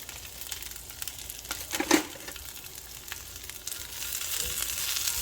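Cabbage sauteing in hot oil in a pan gives a steady close sizzle and crackle, with a brief louder stir or clatter near the start and the frying growing slightly fuller toward the end.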